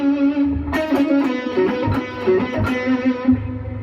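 Distorted electric guitar plays a harmony line, a run of sustained, bent and slurred notes with effects, loud and close, with no voices.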